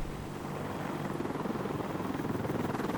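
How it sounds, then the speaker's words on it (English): A video game helicopter in Combat Mission: Black Sea, its rotor thumping steadily and fairly loud, the rhythmic chop growing more pronounced over a few seconds. "Helicopter's going down over here."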